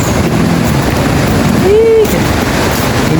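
Aliwagwag Falls gives a broad, steady roar of rushing water that fills the recording at close range and stays loud throughout, with a brief whistle-like tone in the middle.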